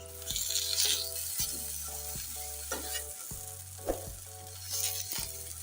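Eggplant slices fry in oil in a pan, giving a continuous bright sizzle with occasional crackles and small pops, steady and close, under a low background hum.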